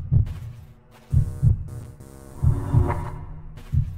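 A heartbeat sound cue in a LiDAR scanning video game, a deep double-thump pulse repeating about three times over a low electronic hum, loud and close with no voices.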